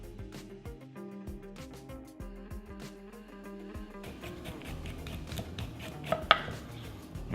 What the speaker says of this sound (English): Okay, so just peel, start peeling.